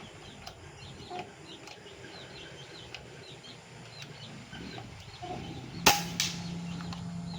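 One sharp, loud crack of a Taurus V5 air rifle shot rings out over steady outdoor birdsong, with chirping birds continuing around it.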